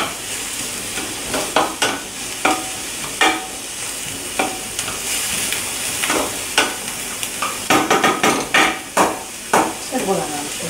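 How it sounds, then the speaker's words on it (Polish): Onion frying in a pan for Polish red pepper soup, a steady close sizzle broken by repeated sharp knocks and scrapes of a utensil stirring against the pan, growing busier toward the end. "Cebula nam się podsmaża."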